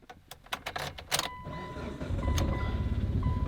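A 2003 turbocharged Evolution sits idle while keys jangle and clicks sound, then the engine cranks and catches, settling into a steady, close, rumbling idle.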